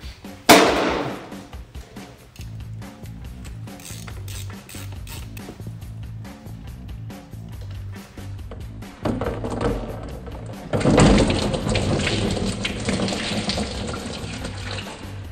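Transfer case fluid draining from a Cadillac CTS-4 into a pail: a sharp knock, then a thin steady trickle that turns into a louder, fuller gushing pour in the last few seconds, close by with no voices.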